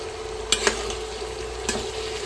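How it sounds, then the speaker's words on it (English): Ground beef with onion and jalapeno frying in a pan, a steady close sizzle with a few sharp clinks of a utensil stirring the mixture, no voices. "I'm going to mix it in with my ground beef. And I'm going to cook this for about 3 to 4 minutes"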